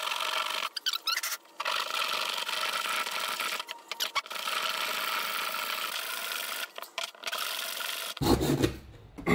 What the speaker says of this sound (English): You can take sandpaper and clean it up.